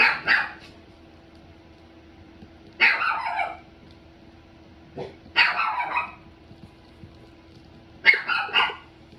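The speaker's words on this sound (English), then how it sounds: "That is my dog, Peanut." A dog in a house barks in four separate short bursts spaced a few seconds apart, fairly close and clear over a quiet background hum.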